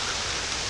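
Steady rain falling outdoors, an even hiss of drops at moderate level across a very short stretch, with no voices.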